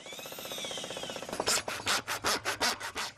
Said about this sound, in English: First, 2-inch holes are bored through the siding and rim joist just above the basement wall.